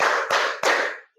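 Three sharp hand claps in a steady rhythm, each ringing out briefly, loud and close, part of a sing-along clapping game, with a faint voice starting at the very end.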